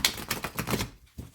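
Lo Scarabeo tarot cards are shuffled by hand in a quick, close, quiet burst of papery riffling clicks that breaks off briefly, then resumes.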